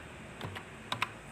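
A few quiet keystrokes on a computer keyboard while a network configuration command is entered, with two or three soft isolated taps, then a brief pair of sharper clicks close together near the end.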